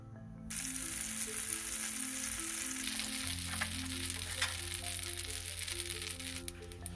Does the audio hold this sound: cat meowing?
no